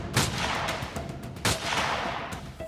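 Repeated sharp gunshot cracks at an uneven pace, some close and loud and others fainter, over a steady hiss and noise bed in CCTV footage of a street shooting near a home in Prayagraj.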